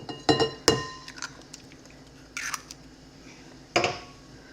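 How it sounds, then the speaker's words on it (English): Room-temperature eggs being cracked into a bowl of pumpkin puree, a few separate sharp taps and clinks against the bowl rim with quiet gaps between, close and fairly clear. "I have 3 room temperature eggs that will crack in here"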